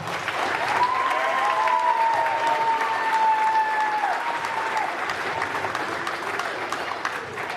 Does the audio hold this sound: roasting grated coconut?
no